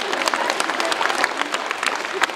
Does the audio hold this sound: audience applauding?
yes